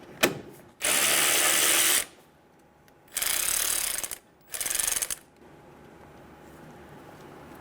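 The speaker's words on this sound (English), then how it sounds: "Using a 10mm socket, remove the bolt for the coolant reservoir." Ratchet fitted with a 10mm socket backing out the coolant reservoir bolt on a 2000-2007 Ford Focus 2.0L, three bursts of fast clicking pawl sound, close and loud, separated by brief pauses, with no talking.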